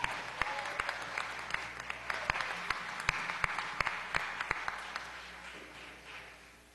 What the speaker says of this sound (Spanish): Un aplauso a los compañeros